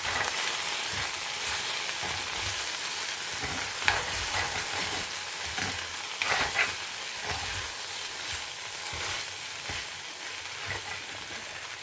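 Okra with salt sautéing in a pan, a steady close sizzle and crackle with occasional stirring scrapes, continuous throughout and without speech.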